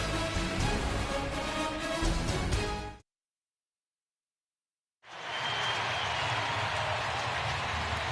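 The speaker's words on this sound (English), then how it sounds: "you hear the applause for Jose Altuve" A baseball crowd at an American League Division Series playoff game between the White Sox and Astros applauds a batter, a loud wash of clapping and cheering that cuts out briefly before resuming.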